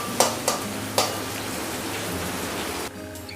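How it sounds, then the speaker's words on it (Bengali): Finely chopped onions fry in a pan until brown, with a constant sizzle and a few sharp clanks of a spoon stirring near the start, and the sound drops off at the end. "ভালো করে নেড়ে চেড়ে পেঁয়াজগুলোকে আমি ব্রাউন কালার করে ভেজে নেব।"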